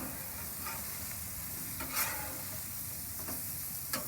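Pulled pork and cheese stuffed burgers cook on a 10-year-old Weber gas grill, giving a faint, steady sizzle with a couple of brief clicks and scrapes from handling.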